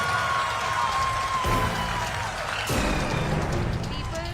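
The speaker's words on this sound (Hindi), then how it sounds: "तालियों की ये गड़गड़ाहट सुनिए।" Applause from ISRO scientists and onlookers celebrating the Chandrayaan 3 lander touching down on the Moon, a dense, steady roar of clapping and crowd noise that swells in bursts and stays loud throughout.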